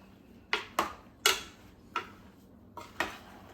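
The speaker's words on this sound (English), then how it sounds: "I'll stir this up." A spoon knocks against a cooking pot of pears six times in an uneven rhythm, sharp close metallic clinks over a quiet background.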